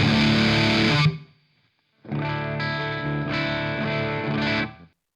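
An electric guitar through a Jed's Ped's Obsessive Compulsive overdrive pedal rings out a gritty chord, stops for a moment, then plays a longer crunchy bluesy sustained passage before cutting off.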